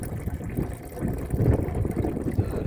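Water flows steadily into a self-watering raised garden bed, a continuous close trickling and gurgling with slight handling noise and no talk.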